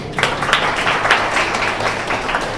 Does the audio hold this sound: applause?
yes